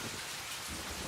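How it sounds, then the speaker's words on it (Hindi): Heavy rain pours down in a dense, steady hiss of falling water, loud and continuous with no voices. "देखो ना, इतनी बारिश हो रही है,"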